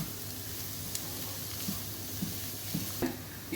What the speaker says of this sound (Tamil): இப்போ வந்து இது கேரட்டு பீன்ஸு வதங்கினே இருக்கட்டும்.